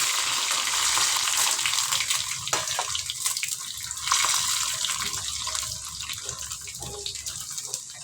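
Mustard seeds, chana dal, peanuts, garlic and dried chilies frying in hot oil for tamarind rice, a steady close sizzle and crackle with stirring scrapes and occasional pops, without speech.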